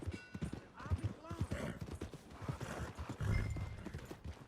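Horse hooves clip-clopping in Red Dead Redemption 2 as a rider slows near the stables, close uneven hoofbeats with a snort and whinny, a voice calling out over them.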